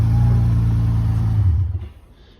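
A car's 3.8-liter engine idles and revs loudly at close range at a towing auction, then winds down and fades out near the end.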